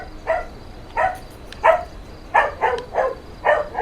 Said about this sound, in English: Now my dogs are going crazy.